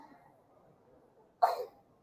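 A single short sneeze, sharp and fairly close, bursting out of a quiet room background with no talk around it.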